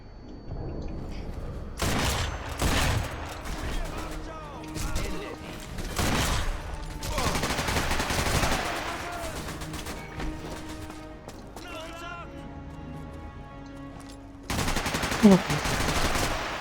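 Gunfire in the video game Sniper Elite V2 Remastered, repeated sharp shots and bursts spread through the stretch, loud and close, with game sounds and a speaking voice in between.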